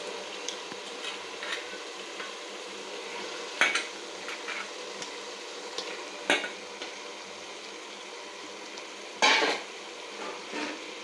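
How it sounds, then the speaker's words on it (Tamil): Half a kilo of chicken being stirred into a tomato biryani masala in a cooking pot: quiet, steady scraping and shuffling with a few sharper clinks of the spoon against the pot, no talking. "கறி சேர்த்துட்டு நல்லா வந்து கறியை போட்டு நல்லா கலரி விடணும்."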